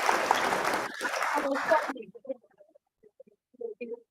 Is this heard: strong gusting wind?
no